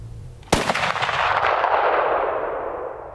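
Shotgun fired at a deer during Iowa shotgun season on public land, a single sharp loud blast with a long rolling echo fading across open country.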